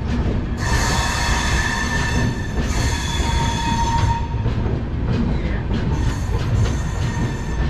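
An express train pulls into the platform at Ambala Cantonment Junction, with loud continuous rumbling of wagons, repeated metallic wheel squeals and clanks rising and fading over the whole stretch, no voices.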